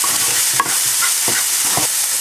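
Salted onions fry in a pan with a loud, constant sizzle, punctuated by a few scraping stirs of a spoon.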